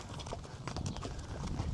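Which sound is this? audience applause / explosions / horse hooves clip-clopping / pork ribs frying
horse hooves clip-clopping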